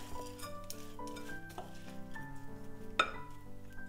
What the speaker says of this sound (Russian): Все эти ингредиенты я просто перемешиваю